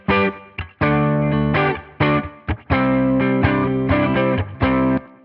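Electric guitar run through a Tonex amp capture with a baked-in cab, light compression and spring reverb, playing a loud, driven riff of chords and sustained notes with short gaps and a soft reverb tail.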